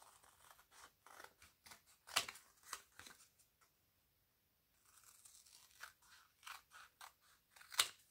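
Scissors snip through fabric being trimmed for resin coasters, a quick run of crisp cuts with brief pauses, close and quiet and heard on their own.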